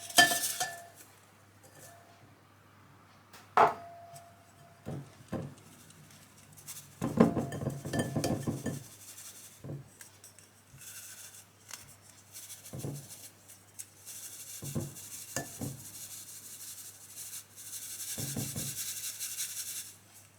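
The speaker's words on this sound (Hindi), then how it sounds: "सबसे पहले हम बेसन को छान लेंगे।" Gram flour is sifted through a metal sieve: scattered taps and clinks of metal, a dense burst of rattling, and stretches of gritty rubbing, close-up with no talking.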